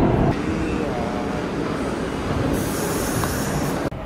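New York City subway train rumbling loudly with rail noise and wheel squeal, a steady dense roar close by throughout, with faint voices mixed in.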